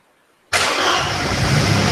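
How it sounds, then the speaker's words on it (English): A Mercedes 230 that has stood for seven years starts up: silence, then the engine catches abruptly and settles into a loud, steady rough idle close to the listener. "that engine sounds as sweet as a nut"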